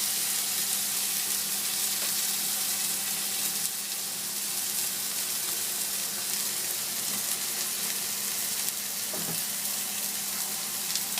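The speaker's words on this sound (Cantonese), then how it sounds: "反轉佢，再煎一煎嗰邊啲香草" Steady, fairly quiet sizzling of a cod steak frying in a La Rose pan, an even hiss with occasional faint clicks, no voices.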